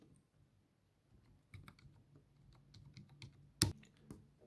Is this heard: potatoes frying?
no